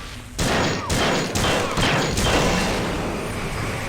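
Automatic gunfire in the video game System Shock 2 erupts in loud, close bursts of rapid shots, followed by a fading echoing tail.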